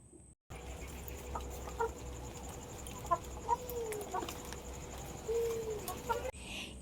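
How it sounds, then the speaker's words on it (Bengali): Chickens cluck and call in short bursts over steady outdoor background noise in the rain as they are chased, a few sharper calls standing out near the middle and end. "মুরগিগুলোকে তাড়া করছে"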